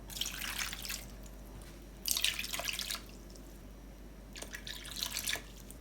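Water is poured into a cooking pan holding plums in three separate splashing bursts, close and fairly soft, with quiet gaps between them.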